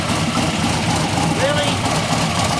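A blown LS3 V8 in a 1967 Chevy Nova with straight-through Flowmaster exhausts, running steadily on its first start, with a loud, continuous low engine rumble throughout.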